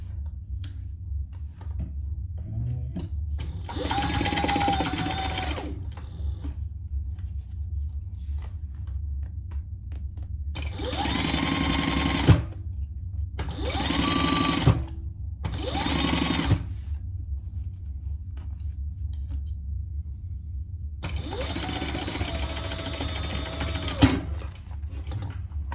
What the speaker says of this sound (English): So now I'm going to baste that in place.